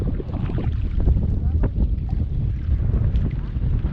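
Strong wind buffets the microphone aboard a small fishing boat off the islands of Palawan, a steady loud roar with gusty swells and water rush throughout, no clear talk.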